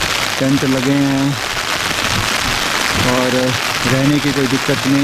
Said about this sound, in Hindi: काफ़ी बारिश है